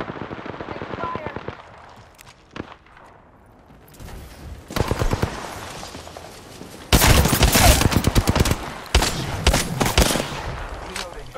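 Automatic and rapid weapon fire in the Apex Legends battle royale game, loud bursts that build into dense sustained volleys, with players talking at the same time.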